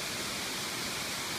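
At night, a waterfall in Takachiho Gorge gives off a dense, unbroken roar of falling water, loud and even throughout a brief stretch, with no voices.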